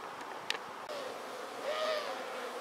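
Honeybees buzz at a beehive, a soft close hum holding throughout with a louder whining pass near the end, otherwise quiet.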